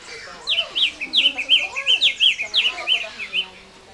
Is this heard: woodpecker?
yes